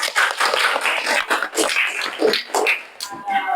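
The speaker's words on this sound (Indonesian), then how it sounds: "tepuk tangan dulu buat Torik" A classroom of students claps for a classmate who answered a question, giving a few uneven bursts of clapping. The claps sound close and lively and rise and fall over several seconds.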